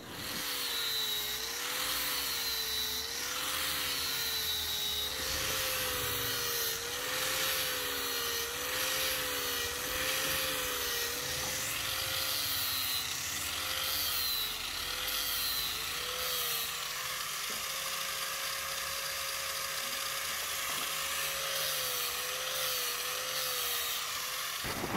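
A power sander grinds steadily against a long wooden axe handle being shaped in the Thai style, its whining motor wavering in pitch as the tool moves along the wood, close and continuous with no talk.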